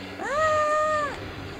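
A cat meows once in the Star Wars: The Phantom Menace PS1 video game, a clear, sustained tonal call standing alone over faint background hum.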